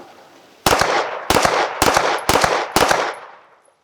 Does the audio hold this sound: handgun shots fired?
yes